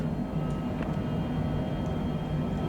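A Cessna light aircraft climbs through about 5,900 feet after departure from Ogden, Utah, its piston engine making a steady, close, droning hum with a faint propeller tone throughout and no talk.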